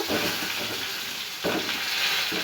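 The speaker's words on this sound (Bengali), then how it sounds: "এই তেলের মধ্যে আমি আগে প্রথমে পটলগুলো দিয়ে দিচ্ছি পটলগুলো আগে ভেজে নেব" Slices of pointed gourd (potol) sizzle steadily in hot oil in a home kitchen pan, a dense continuous frying hiss broken by two brief bursts as pieces shift, with no talking.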